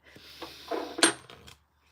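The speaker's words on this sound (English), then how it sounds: "let me just shuffle for a second" A small cat-themed tarot deck is shuffled by hand, producing a brief close flurry of crisp card slaps and rustles that peaks in one sharper snap, then falls silent.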